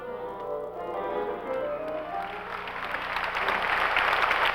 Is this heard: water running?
no